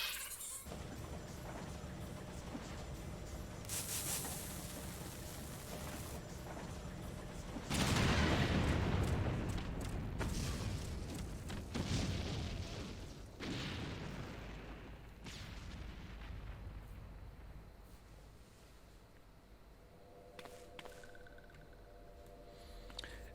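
Bombs exploding in the video game Final Fantasy 14: a loud, heavy blast booms around the middle, followed by a few smaller bursts and rumbles over a steady game background.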